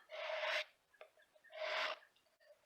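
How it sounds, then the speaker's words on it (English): A rasp file works down a powder horn in two long, close scraping strokes separated by a short pause, fairly quiet overall. "This is more of a rasp. It cuts fast. I'm going to place that on there. Just start kind of filing that down."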